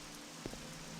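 Rain falling in the game Morrowind, a steady broadband hiss of rain on surfaces with a faint low hum and a soft thud midway.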